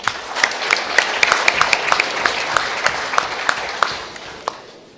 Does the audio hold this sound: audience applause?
yes